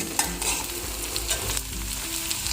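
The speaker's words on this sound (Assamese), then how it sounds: "চপ কৰি থোৱা পিঁয়াজখিনি দি ভালকৈ একদম গল্ডেন ব্ৰাউন হোৱালৈকে ভাজি ল'ব লাগিব" Onions and green chilies fry in hot refined oil in a pan, a continuous close sizzle with stirring scrapes running throughout, no voices.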